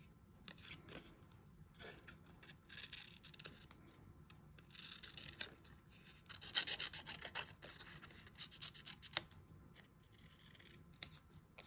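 Scissors snip through paper while a skateboard shape is cut out, giving soft, close crisp cuts and rustles that grow busier in the second half, with no talking.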